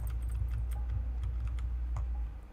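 A bunch of keys jingles and clinks at a locked interior door while a stuck key is worked in the lock, with small scattered metallic ticks over a steady low hum and no speech.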